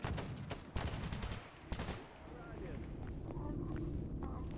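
Gunfire in S.T.A.L.K.E.R. GAMMA, a few sharp shots in quick succession early on, fading into a steady ambient rumble, moderately quiet overall.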